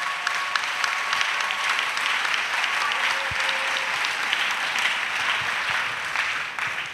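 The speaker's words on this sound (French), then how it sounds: "Acclamation à Jésus-Christ." A congregation at a missionaries' retreat in Côte d'Ivoire applauds in a steady, fairly close burst of clapping that carries on evenly for several seconds before tapering slightly.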